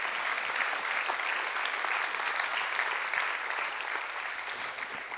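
Sustained applause from an audience at a business idea competition's closing ceremony, steady clapping of many hands across the whole stretch with no break.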